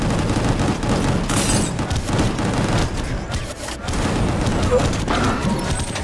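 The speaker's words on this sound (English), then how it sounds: "Shooting at me, you freak!" Rapid gunfire and heavy impacts from the video game Gungrave G.O.R.E pound continuously in dense bursts, with booms and crashes layered under occasional talk.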